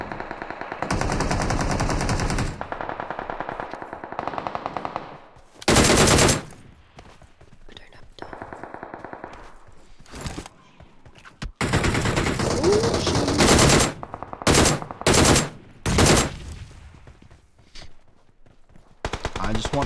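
Automatic machine gun fire in a shooter video game comes in several loud, rapid bursts separated by quieter stretches of background game noise.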